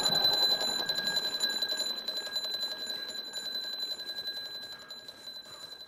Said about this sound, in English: Right, so that's the two alarms I showed you